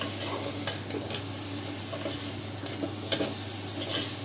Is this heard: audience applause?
no